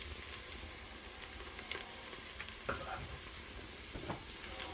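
Cumin, chipotle chili seasoning, oregano and paprika sizzle quietly in a hot Instant Pot for chicken soup, a steady soft crackle with a few brief stirring scrapes and clicks, no talking.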